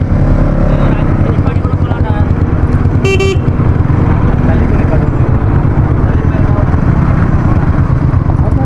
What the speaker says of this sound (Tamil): லாரி வேறு வருது.